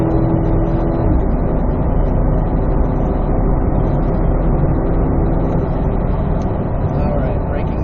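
A Chevrolet Corvette E-Ray, 2024 model, driven hard around a race track, its engine and road roar loud and steady throughout, with a driver talking over it.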